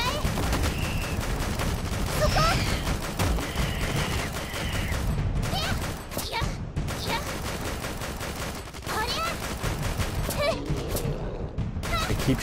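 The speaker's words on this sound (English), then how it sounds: "Keep shooting these guys with the gun." Dense gunfire in the Dead or School video game, rapid continuous bursts of shots blending with game effects and music, loud and sustained, with a person talking over it.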